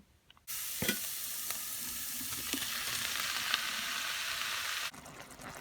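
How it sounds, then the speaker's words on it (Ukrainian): Steady, loud sizzling of onion and mushrooms frying in butter in a hot pan, with a few soft stirring clicks, running continuously without talk. "На вершковому маслі тепер я підсмажую цибулю, а потім додаю туди грибочки."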